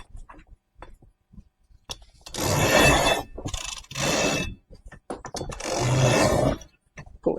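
Sailboat headsail line being eased off a winch in calm conditions, giving bursts of mechanical ratcheting and scraping clicks with short gaps between them, close by and with no talking.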